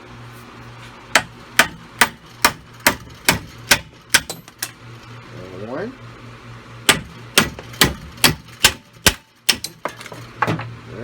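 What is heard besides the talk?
hammering old wheel studs out of Yamaha Rhino 660 hub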